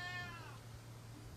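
A rescued adoptable cat gives a single short meow, close and fairly quiet, over a faint steady background hum.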